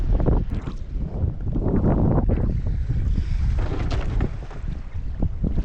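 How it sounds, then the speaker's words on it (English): Rough water slaps and churns against a boat while strong wind buffets the microphone, a continuous loud roar with no voices. "Oh, Jesus, it is choppy"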